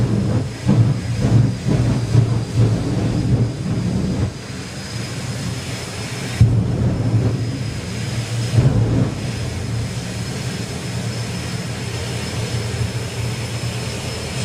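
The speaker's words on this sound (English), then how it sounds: "So Perry building up the RPM on the turbine then." A jet turbine dragster at Santa Pod Raceway's Festival of Power drag racing spools up, giving a loud, sustained roar with a steady high whine on top that surges and eases in waves.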